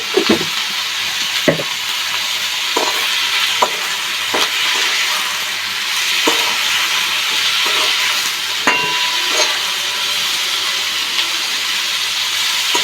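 Mixed vegetables such as potato, carrot, turnip and pumpkin slices fry in a pan with a steady close sizzle, broken by occasional clinks and scrapes of stirring and no talking.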